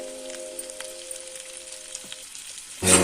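Potato curry with salt and turmeric added, a soft low sizzle and faint stirring in the pot, quiet and steady, ending in a brief louder knock.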